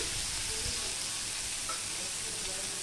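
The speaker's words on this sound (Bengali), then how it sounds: "এবার পেঁয়াজটা লাল লাল করে ভেজে নেব" Onion and garlic frying in a pan with a little salt, a steady close sizzle and hiss running throughout with faint clatter underneath.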